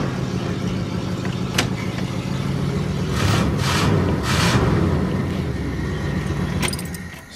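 A 1963 Oldsmobile car running while it is driven, with a steady engine and road rumble throughout, a few brief metallic jingles and rattles on top, fading near the end.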